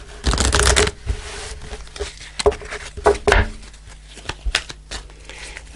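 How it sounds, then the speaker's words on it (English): Archangel oracle cards are shuffled and pulled at close range: a loud riffling burst at the start, then scattered soft slaps, rustles and flicks of cards with pauses between them. "let's pull an Archangel card"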